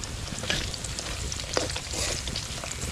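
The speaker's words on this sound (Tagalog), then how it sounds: "nagpiprito po tayo ng kamuting kahoy" Cassava seasoned with black pepper frying in a pan, a dense, steady sizzle and crackle of hot oil with scattered pops, fairly quiet and close, no voices.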